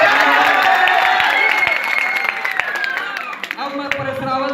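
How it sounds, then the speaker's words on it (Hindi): An audience at a comedy poetry event in Lucknow claps and cheers, the applause close and busy at first, then thinning into scattered claps beneath a performer's talk. "जमाइला जरा ताली बजा"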